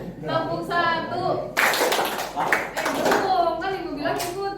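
A school class claps a short rhythm pattern in a few quick bursts of sharp hand claps, while a teacher and children talk over and between them.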